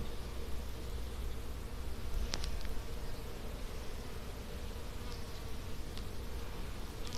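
A dense, continuous buzzing of many honey bees in an open hive fills the clip, steady and close, with occasional sharp clicks and rustles on top.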